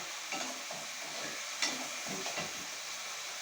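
Rice and vermicelli toast together in a hot pan, with a quiet sizzling hiss broken by several scraping strokes of a stirring spoon against the pan.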